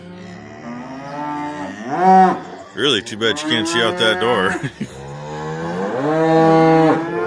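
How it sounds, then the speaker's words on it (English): Cows moo loudly and close by in a barn, several long drawn-out calls overlapping, while a person briefly speaks between them. "I walked in the barn and she was over here mooing at me"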